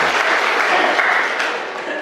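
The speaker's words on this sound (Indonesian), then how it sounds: "Tepuk tangan untuk Mbawean." Sustained applause from an audience at a religious counselors' guidance gathering, a steady dense wash of clapping honoring Mbawean that stays even for a couple of seconds.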